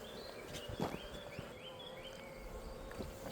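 Honey bees buzzing around a mini mating nuc, a faint steady outdoor hum with several wavering buzzes of bees flying past, plus a few soft knocks, no talk.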